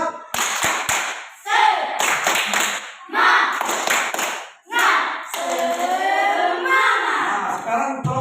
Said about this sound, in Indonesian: buat dulu tepuk semangat